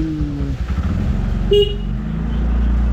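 A vehicle's horn toots once on a narrow mountain road toward Teesta Bazaar on the Kalimpong route, sounding close over the steady engine drone of the moving car.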